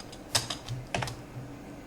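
A computer keyboard is typed on in a few quick, close clicks and taps, with short pauses between small bursts and no talk.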